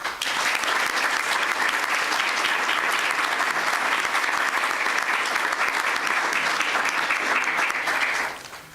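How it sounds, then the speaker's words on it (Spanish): Sustained, dense audience applause at a Spanish-language election conference, loud and steady for about eight seconds before tapering off quickly at the end. "Por favor, les pido un aplauso."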